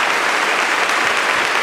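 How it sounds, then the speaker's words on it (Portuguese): A church congregation at a Catholic Mass claps together in a dense, continuous wash of applause, steady and fairly loud, with no break and no voices rising above it. "Mais forte as palmas."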